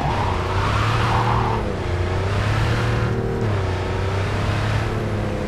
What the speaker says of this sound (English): I kinda wanna drive it. I really do. I'm in a Porsche 911